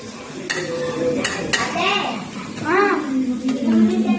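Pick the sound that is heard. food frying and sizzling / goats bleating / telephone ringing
food frying and sizzling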